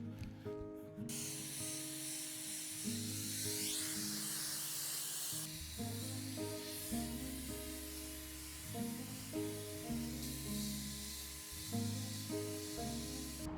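A paint gun sprays paint onto IKEA kitchen chairs, making a sustained airy hiss that surges in bursts. Steady compressor-like tones sit underneath, and no voices are heard.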